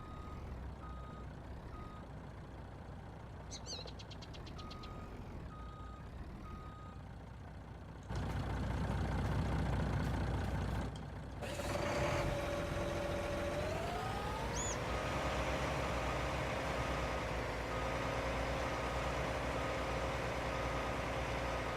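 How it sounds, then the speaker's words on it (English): A tractor fitted with a winch drives in Farming Simulator 19, with a steady engine drone that jumps louder midway, a rising whine as it pulls away, and earlier faint beeping tones. "got us a tractor with a winch on it now"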